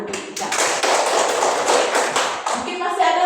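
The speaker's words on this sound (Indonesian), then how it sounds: "Tepuk tangan dulu." Children in a classroom clap together in a quick, fairly rhythmic burst of close, loud hand claps, with a voice speaking briefly as the clapping fades near the end.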